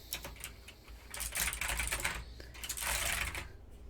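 Rapid clattering of keys being pressed on a Razer computer keyboard, a dense close-up burst of clicky taps that thickens and fades over a few seconds.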